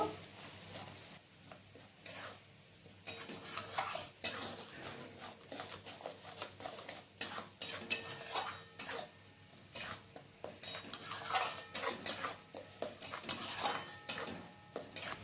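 Mustard and poppy seed paste stirred in a pan, with repeated scraping and clinking of a utensil against the metal in uneven bursts throughout.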